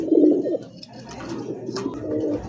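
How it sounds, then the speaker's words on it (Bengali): A male golden art angel pigeon coos close up, a low throaty burst followed by softer rolling coos. "যে ডাকতিছে এটা হচ্ছে নর"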